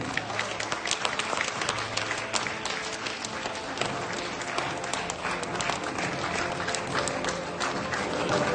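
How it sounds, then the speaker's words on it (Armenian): Theatre audience applauding at a live stage comedy show, steady dense clapping from a large crowd filling the whole stretch, loud and continuous without a break. "Ծափահարում ենք"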